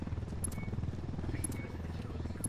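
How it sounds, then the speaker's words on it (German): A helicopter in the video game Ghost Recon Wildlands gives a steady, throbbing rotor rumble at moderate level, its low pulsing drone continuous and unbroken. "Zwei Hubschrauber."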